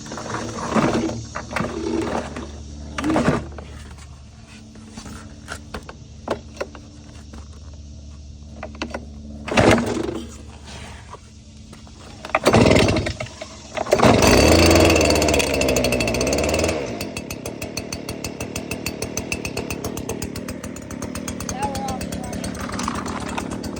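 A Stihl backpack leaf blower engine, choke on full, is pull-started with a few sharp tugs, then catches and runs with a steady, loud droning buzz; a voice talks briefly between pulls.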